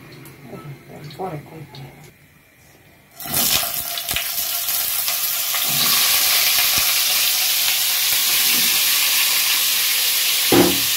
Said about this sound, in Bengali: এই যে স্পেশাল করে বিরিয়ানির আলু ভাজা হচ্ছে